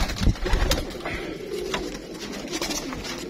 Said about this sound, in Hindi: ये डब वाले कबूतर